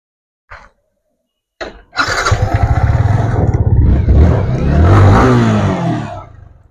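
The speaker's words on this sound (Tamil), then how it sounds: "பாருங்க வண்டி ஸ்டார்ட் பண்றேன் பாருங்க." A 2021 Yamaha MT-15 motorcycle engine cranks after a couple of short clicks, catches and settles into a loud, throaty idle with blips of revving, recorded up close.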